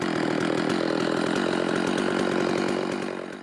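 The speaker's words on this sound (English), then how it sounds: "So you can see now that we can make progress with the chainsaw on the frame." A chainsaw mounted on a lumber mill frame cuts steadily through wood, a loud, continuous buzzing drone with a rapid chattering texture that fades slightly at the very end.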